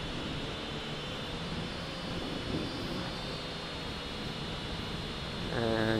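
A Fineco FX-6C camera drone hovers and rotates outdoors, giving a steady, fairly faint whirring drone mixed with wind noise throughout, rising slightly at the end.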